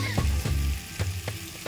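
Green peas sizzle in a hot wok for vegetarian fried rice, a steady close frying hiss broken by four or five sharp scraping stirs of a spatula against the pan, with no voices.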